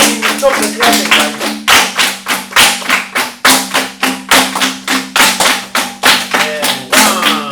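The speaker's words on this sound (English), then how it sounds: "When you start saying, you stop the clapping," Rhythmic hand clapping keeps time for the Zimbabwean folk song Mwana Mwangu Wakura: about twenty crisp, evenly spaced claps over several seconds, close and loud, over a steady low hum.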